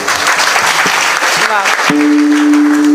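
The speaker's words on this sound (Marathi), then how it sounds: "एकदा या मंडळींसाठी टाळ्या वाजवा जोरदार." Audience clapping at a Marathi kirtan, a dense sustained burst of applause from a crowd with sustained musical tones from the performance running underneath.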